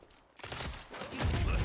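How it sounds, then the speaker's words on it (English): Gunfire in the hero shooter Deadlock, a fast burst of shots that swells louder in the second half, with dense crackling blasts and no voice over it. "Just gonna throw some gunshots his way"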